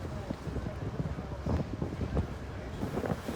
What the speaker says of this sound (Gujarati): પવન એ ફૂલ છે અને વરસાદ બી હેવી છે એકદમ.